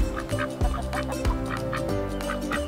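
Ducks calling inside a moveable backyard coop, a busy overlapping stretch of nasal quacks and honks, close and continuous over a low outdoor hum, with no talking.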